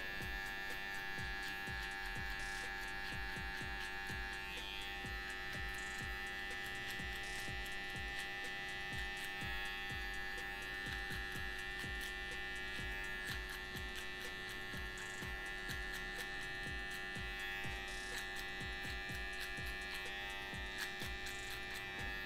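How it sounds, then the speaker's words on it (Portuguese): An electric hair trimmer finishing a fade on spiky hair, a loud, continuous close buzz with steady hum, punctuated by many small clicks and scratches as the blades pass over the head. "A própria marcação da máquina de acabamento a gente tira com a própria maquininha de acabamento"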